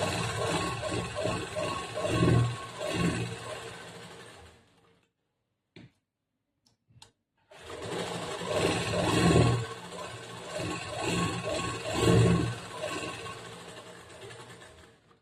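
Sewing machine stitching along the neck mark of a princess-cut blouse, a steady buzzing whir that runs for several seconds, stops briefly with a couple of clicks, then resumes just as loud and continuous.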